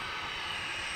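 A Viva Aerobus jet airliner pushing back at John Glenn Columbus Airport gives off a steady, even engine whine and roar, heard from a distance with no talk.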